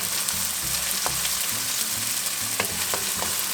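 Finely chopped onion sizzles steadily in hot oil for vegetarian patties, a constant crackling fry with a few stirring scrapes and clicks, close and alone.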